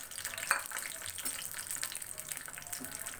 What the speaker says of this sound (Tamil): நல்லா ப்ரௌன் கலராக வறுத்து எடுத்து வச்சுக்கலாம்.